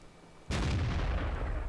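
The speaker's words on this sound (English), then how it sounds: "So I go for the blind shot, don't hit anything." A tank cannon fires a single blind shot in World of Tanks, an abrupt loud boom that rolls into a sustained low rumble after a quiet start.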